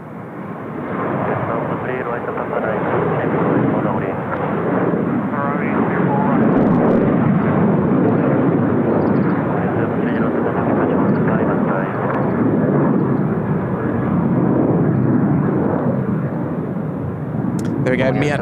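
A MIAT Mongolian Airlines Boeing 737-800 jet at Seoul Incheon Airport gives a loud, steady engine roar that holds for the whole stretch, with a voice talking over it.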